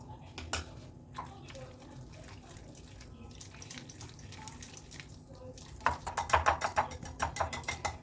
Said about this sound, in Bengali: আমি আর একটু জল অ্যাড করে দেবো